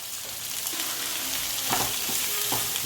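Capsicum, onion and spring onion stir-fried in a pan for restaurant-style chicken Manchurian, with a steady loud sizzle throughout and a few scraping stirs of the spatula, no talking.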